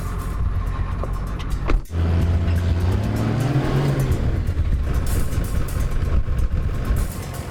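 A 4WD engine revs loud and close while driving over Maxtrax recovery boards in soft sand on Fraser Island, with a sustained strained roar, a brief dip and a rising then falling pitch as it pushes forward.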